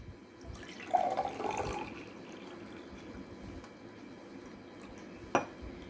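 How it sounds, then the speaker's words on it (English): Water poured off settled sand from one glass into another, a soft trickling pour for about a second, followed later by a single sharp clink of glass. "now what I will do? I will do the decantation."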